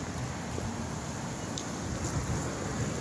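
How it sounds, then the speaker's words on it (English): Steady wind rushing and buffeting across the microphone, a continuous broadband roar with low rumble, no voices. "It's windy."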